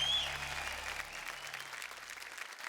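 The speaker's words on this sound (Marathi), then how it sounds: "पुन्हा एकदा जोरदार टाळ्या अंकितासाठी." An audience at a Marathi stage show claps for a performer named Ankita: a steady wash of applause that slowly tapers off.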